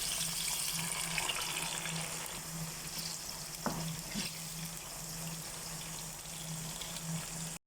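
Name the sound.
frying potatoes and carrots in a pan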